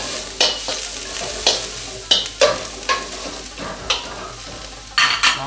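Carrots and onion are stir-fried in a wok. A constant sizzle is broken by repeated scraping strokes of a spatula at an uneven rhythm.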